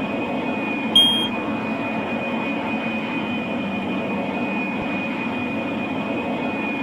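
A cartoon airliner cruises at altitude, its jet engines making a steady, even cabin roar with a high whine, heard alone and continuous, with a short chime-like blip near the start.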